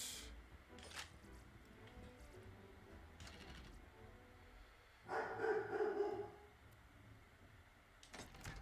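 A dog barks in the background indoors, a few faint distant barks followed by a louder burst of barking in the middle, otherwise quiet.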